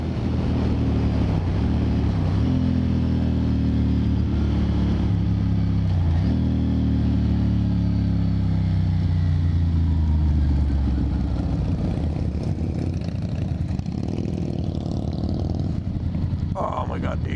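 Harley motorcycles ride past nearby, engines rumbling and revving with pitch sweeping up and down, loud and continuous over wind noise.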